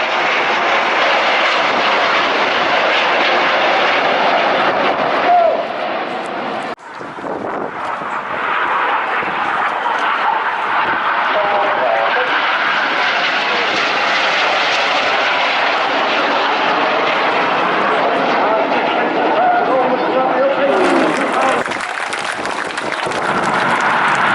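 A fixed-wing display aircraft flies in towards the crowd at an airshow at about 200 miles an hour, its engine a loud, sustained roar that dips briefly and then swells again as it approaches.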